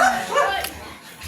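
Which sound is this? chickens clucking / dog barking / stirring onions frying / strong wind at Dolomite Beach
dog barking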